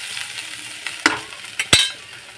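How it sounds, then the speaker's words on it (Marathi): Dill leaves sautéing with browned onion in a pan, a soft steady sizzle broken by a few sharp scrapes and clacks of a stirring spoon against the pan. "त्यात शेपूची भाजी टाकून घेऊया। ती चांगली परतूया"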